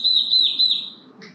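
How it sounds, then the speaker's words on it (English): Birds in an attic give a short, clear, high chirping call that wavers and then breaks off, followed by a brief faint second tweet. The sound is close and carries over faint background noise. "We got birds in the attic."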